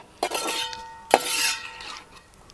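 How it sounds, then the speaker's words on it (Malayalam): Fried garlic for a Kerala garlic pickle is tipped from a pan into a vessel. Two sharp metallic clanks are each followed by a brief ringing scrape and rattle of metal utensils, with quiet moments between. "ഇനി നമുക്കിതിനെ ഒരു പാത്രത്തിലേക്ക് കൊട്ടി കൊടുക്കാം"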